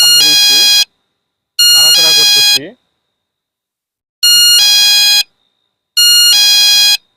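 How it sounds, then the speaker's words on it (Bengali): A wireless cattle-theft detection device sounds its alarm in four loud, piercing electronic bursts of about a second each, separated by short silences, close up and with no voices. "অ্যালার্মটি বেজে উঠছে"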